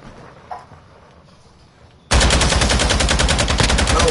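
In a PS4 shooter, near silence suddenly gives way to a loud, sustained burst of rapid automatic gunfire that rattles on steadily to the end.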